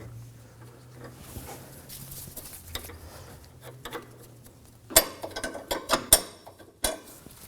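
A tool installs and tightens the inner tie rod on a 2016-2020 Kia Sorento: low mechanical whirring at first, then a burst of sharp metallic clicks and clanks close by.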